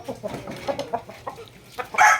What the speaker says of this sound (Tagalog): Ito, maganda ang tayuan, malaking manok.